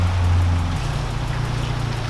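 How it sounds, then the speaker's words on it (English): Heavy rain from a downpour of big raindrops hisses and patters steadily around a Jeep, with a low engine rumble beneath the dense wash of water. "Oh yeah, those are big raindrops."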